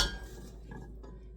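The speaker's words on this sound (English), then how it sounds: "Now I'm just mixing the carrots and celery into the hamburger and onions and garlic." Faint spoon clinks and scrapes in a pot as carrots and celery are mixed into cooked hamburger, onions and garlic for hamburger soup, a few soft knocks over quiet kitchen background.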